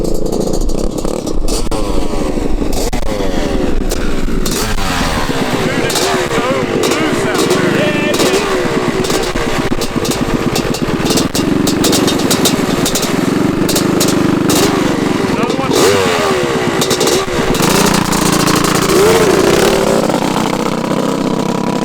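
A worn 40-year-old Honda CR500 two-stroke dirt bike engine roars and revs on a sand drag racing track, loud and close throughout with rising and falling pitch; a voice is heard over it.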